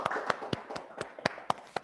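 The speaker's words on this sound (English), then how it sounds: "Virtual applause." About eight sharp, evenly spaced hand claps from one person during an online conference session, close and fairly quiet, with no other sound around them.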